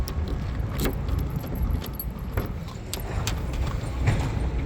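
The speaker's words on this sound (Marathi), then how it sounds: "आता तुम्हाला एकदा मी बूट पेस ओपन करून दाखवून देतो" The boot of a Suzuki Swift diesel car is opened close by: a few sharp clicks and clunks with light metallic rattling over a steady low rumble.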